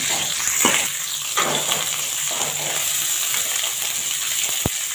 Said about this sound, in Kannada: ಸ್ವಲ್ಪ ಫ್ರೈ ಆಗಬೇಕಿದೆ ಎಣ್ಣೆಯಲ್ಲಿ.